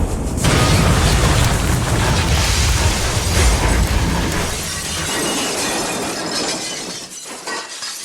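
Massive cannon firing in a comedy Christmas special, a loud booming blast with a long crashing, shattering roar that fills several seconds before fading out.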